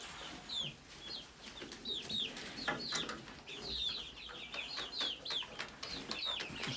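Chickens cluck steadily in a coop alongside a dog named Bella, a dense flock chattering close by with overlapping rising calls.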